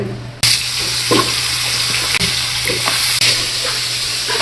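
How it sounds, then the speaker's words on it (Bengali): Crab pieces drop into hot oil and fry with a loud, steady sizzle heard up close, broken by a few sharp clicks and knocks of a utensil and pan, with no talk. "মোটামুটি তেল গরম হয়ে গেছে তো আমি এখন ডালতেছি"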